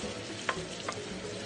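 About 1.5 pounds of ground pork sizzles steadily in a pan on lower heat for a Thai glass noodle stir fry, with two brief crackles of stirring over the constant hiss.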